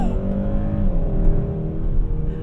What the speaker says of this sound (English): I wonder if we can make the tires chirp in second gear.